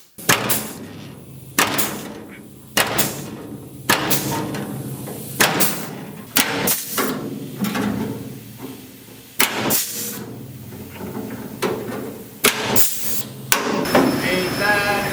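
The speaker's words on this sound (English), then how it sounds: "let's punch some holes." Sharp, loud metallic punches repeating at a steady rhythm as spot weld holes are driven into car sheet metal during VW and Camaro restoration work, each strike ringing briefly in a workshop.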